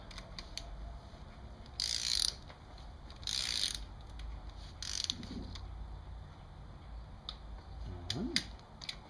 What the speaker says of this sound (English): So I already have my torque wrench set to 9 newton meters.